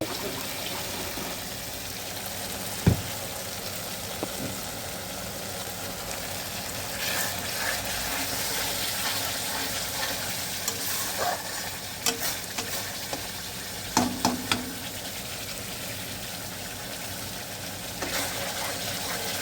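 Spice masala for onion- and garlic-free vegetarian dum aloo frying in a pan, a steady close sizzle throughout, broken by occasional scraping stirs and clinks of a spoon.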